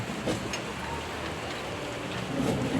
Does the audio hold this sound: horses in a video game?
no